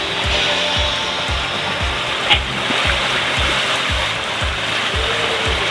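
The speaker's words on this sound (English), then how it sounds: "Running with the waves and the wind is beautiful." Water rushes steadily past the hull of a sailboat running downwind with the waves in a light breeze, a loud, close, continuous wash with a low rhythmic thumping beneath it and no speech.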